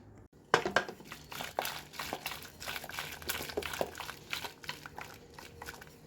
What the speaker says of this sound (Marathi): इथे डाळ झाली आहे आता याला घाटणार आहे